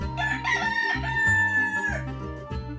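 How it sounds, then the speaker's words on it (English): A rooster crows a full, loud cock-a-doodle-doo close by, with a harmonic, drawn-out call over a musical backing. "Rooster."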